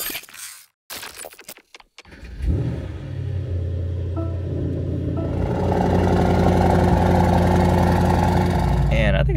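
Mercedes SL63 AMG with its twin-turbo V8 starting up and settling into a loud, steady idle after a few clicks and rustles, close by.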